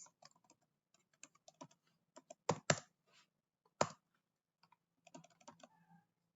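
Computer keyboard typing Java code for a Hibernate project: irregular bursts of crisp, close keystrokes with a few louder, heavier key presses in the middle and short pauses between runs, no voices.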